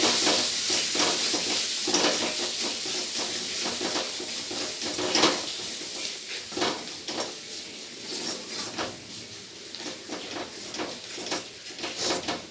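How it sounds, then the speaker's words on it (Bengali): Spice masala with ground cumin stir-frying in a pan, a steady close sizzle broken by repeated scraping strokes and clinks of a spatula against the metal, with no talking. "এবারে সমস্ত মশলাকে একসাথে খুব ভালো করে কষিয়ে নেব।"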